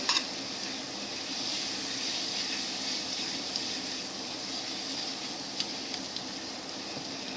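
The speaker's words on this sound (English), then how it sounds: "Sear them nicely with a little bit of all that sauce." Food sears in a hot pan with sauce, giving a continuous close sizzle and crackle with faint scraping stirs, no voices.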